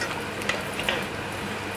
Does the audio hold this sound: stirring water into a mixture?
yes